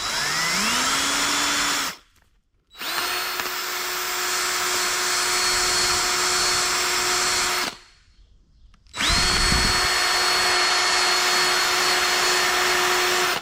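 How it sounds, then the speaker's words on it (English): Power drill boring a hole through a tobacco stalk, a steady loud whine in two long bursts, each spinning up in pitch, separated by brief pauses. "I'm going to drill a hole through the stalk"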